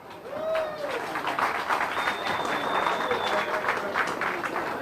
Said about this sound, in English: let's give another round of applause for our Senator, John Blake